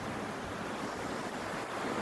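Ocean surf at a scenic beach, a steady broadband wash of breaking waves that fills the whole stretch without pause, with some wind rumble on the microphone and no voices.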